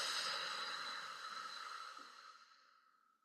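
A long, deep exhale during a guided breathing exercise, near and soft, a breathy rush that fades slowly away to silence over about three seconds.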